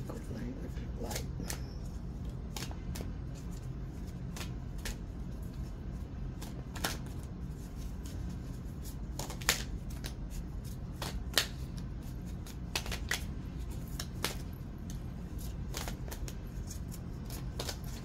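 A deck of cards is shuffled repeatedly, producing crisp riffling bursts and sharp snaps in an irregular rhythm, close by, while a person talks throughout.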